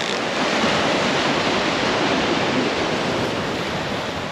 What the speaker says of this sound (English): Where are these random rogue waves are coming from?